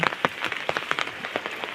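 Heavy rain patters steadily on surfaces, its drops and splashes forming a dense, crackling wash close by with irregular louder hits.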